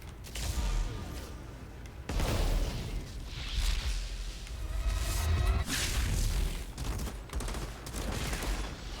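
A detonator sets off explosions in the video game Outriders: a long, dense barrage of booming blasts and crackling gunfire-like bursts, loud and continuous with mechanical creaks throughout.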